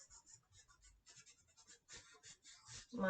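Charcoal scratches across paper while a portrait is drawn, in quick, close, rhythmic strokes of varying length that grow slightly louder toward the end.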